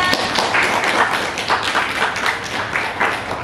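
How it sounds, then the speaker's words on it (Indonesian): A small group claps steadily for a few seconds, close and lively, with no talking over it, applauding a student's dance performance in a school class. "tepuk tangan dulu buat temannya"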